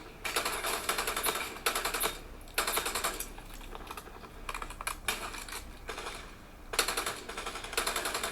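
Bursts of automatic gunfire from a battle-royale shooter game played on a Samsung Galaxy S25 Plus phone, coming in repeated rapid rattling volleys separated by short pauses, with no talk.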